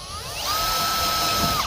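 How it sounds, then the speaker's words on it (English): A power drill spins a 1/4-inch bit with a steady high whine for about a second, close and fairly loud, while marking the outer wall of an RV slide-out tray for a corner protector. "Spin the drill bit to mark it."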